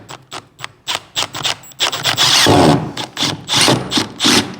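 A cordless driver sends a 120 mm screw through plywood and plasterboard into a stud behind: loud, close whirring bursts in a stop-start rhythm, with grinding and binding as the long screw bites in.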